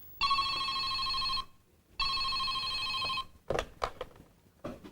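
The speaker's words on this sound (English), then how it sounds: "Ringing the police department." A telephone rings twice in long electronic bursts, loud and close, as a call goes through to a police department, followed by a few brief clicks and handling knocks.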